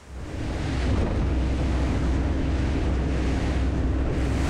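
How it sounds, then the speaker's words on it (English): Rough sea and fresh wind buffet a Pirelli 50 OB boat during a sea trial, a loud continuous roar of wind on the microphone mixed with waves and hull noise, swelling in over the first second and holding steady. "Today the sea is rough, there is wind, but the waves are not very high."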